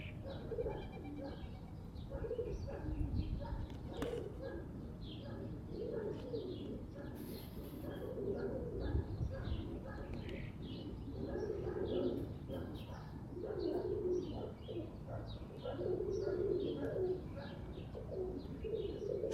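Pigeons, a flock of older and young kit birds, coo in repeated soft low phrases throughout, steady and fairly close with faint chirps and a few wing sounds in the background.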